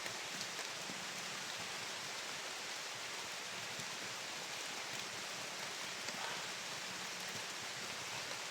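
Steady rain falls through a forest, a dense even hiss of drops on leaves and ground that holds at a constant level for the whole stretch, with no voices.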